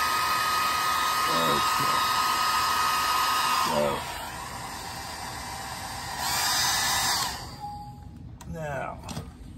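A hair dryer blows hot air to dry watercolor paint on an otter painting, a loud steady whir running for most of the clip and cutting off near the end, with a short spoken word.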